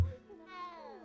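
A single drawn-out cat meow, fairly quiet and close, with a rising then falling pitch lasting about a second, heard alone without talk.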